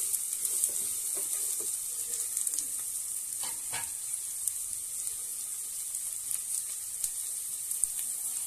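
Vegetables for a lentil curry fry in a pan with a steady, bright sizzle and occasional soft stirring clicks, close and continuous with no voices.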